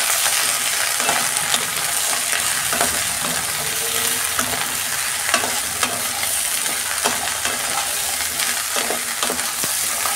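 Okra frying in a pan with a little salt for a yogurt okra dish, giving a loud, steady crackling sizzle with frequent scraping stir strokes throughout.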